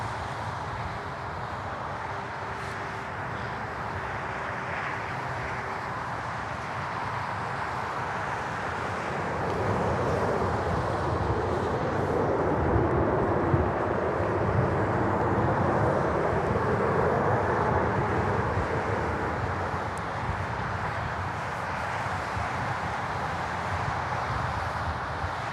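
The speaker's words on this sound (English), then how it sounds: "now let's capture the touchdown of the next arrival. American Airlines 737 coming in from Dallas." An American Airlines Boeing 737 arriving from Dallas lands at LaGuardia Airport in New York, a broad, steady jet roar from some distance that swells in the middle and then eases, heard alone without talk.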